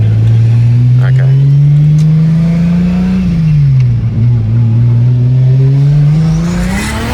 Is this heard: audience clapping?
no